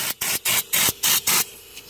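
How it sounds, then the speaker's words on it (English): Short bursts of aerosol spray from a can of WoolWax corrosion protection hit engine parts, six quick rhythmic hisses with brief gaps, close and loud, ending in quieter residual hiss. "So I'm spraying everything, the computer."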